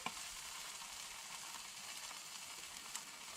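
Slices of Spam frying in a hot pan, a continuous close crackling sizzle with occasional sharper pops.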